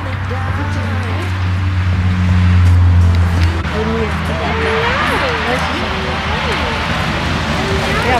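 A car's low engine rumble, heard from inside the cabin while driving with a boxer puppy aboard; steady and continuous under ongoing talk.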